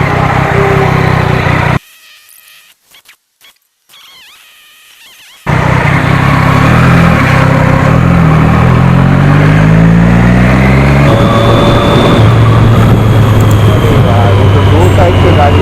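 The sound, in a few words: traffic vehicles passing on both sides during superbike ride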